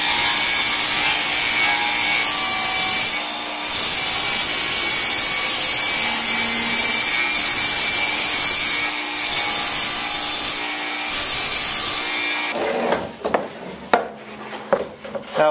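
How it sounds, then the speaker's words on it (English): A table saw rips through rough scrap wood to cut a straight edge, a loud sustained whine of blade on board for about twelve seconds, then it winds down into scattered knocks and clatter of handling the wood. "We'll run that through the table saw real quick and get a nice straight edge on it."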